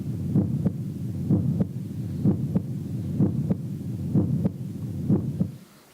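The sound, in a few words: heartbeat sound played by Sound Oasis BST-400 speaker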